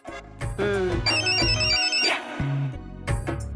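A melodic phone ringtone plays loudly and steadily, a repeating electronic tune of bright tones with short pauses between phrases.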